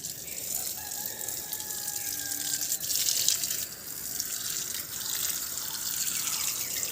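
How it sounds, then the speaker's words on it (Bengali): Water from a garden hose pipe flows steadily onto the base of potted plants on a rooftop, a continuous close splashing rush with a rooster crowing faintly in the background. "এবার দিচ্ছি গাছে জল, পাইপটা গোড়ায় দিয়েছি।"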